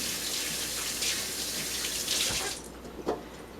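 Tap water runs steadily into a kitchen sink while hands are washed, a loud close rush with splashing that cuts off near the end, followed by a few drips and small clunks.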